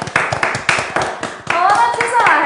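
Hands clap in several sharp bursts among an audience at an HBO premiere event streamed live, with voices talking over and after the claps.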